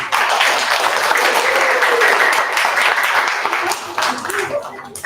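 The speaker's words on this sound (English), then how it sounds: "a round of applause." An audience at an evening showcase event breaks into sustained applause, a dense wash of clapping that holds steady for several seconds and then thins out toward the end.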